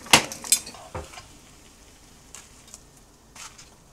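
Chopped vegetables tossed into a hot pan for stir-frying: a couple of sharp clattering knocks up front, then a faint sizzle with scattered light scrapes, close and without talk.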